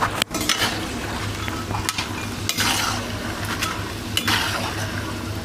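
Steady, dense sizzling of french fries frying in hot oil, with occasional light clicks and taps over the continuous hiss. Close and fairly loud.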